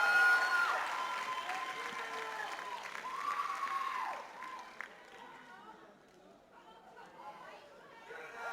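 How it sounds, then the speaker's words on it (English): Audience at a K-pop dance showcase applauds and chatters, clapping strongest at first and then thinning into crowd murmur and scattered voices. "give it up for open section"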